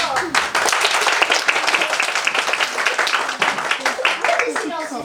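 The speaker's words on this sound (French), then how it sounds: "On les applaudit très fort." An audience at a primary-school class theatre performance claps in a dense burst for about five seconds, with voices and cheers mixed into the clapping.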